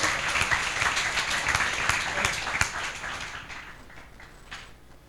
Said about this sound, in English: Can I get some applause